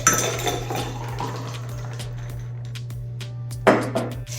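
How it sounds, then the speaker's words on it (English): A shaken cocktail is poured into a cocktail glass with glassy clinks and rattling ice, a sharper knock near the end, close up over a steady low hum. "I'm going to pour my drink into the cocktail glass."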